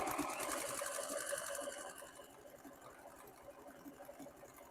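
A sewing machine stitches a buttonhole on a raincoat, a quiet rapid mechanical chatter with a steady needle rhythm that slows and softens partway through.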